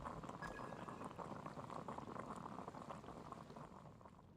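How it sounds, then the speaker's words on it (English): Water boiling in the video game Genshin Impact, a soft, steady bubbling and rolling simmer, quiet and continuous with no voices. "I'll boil some water."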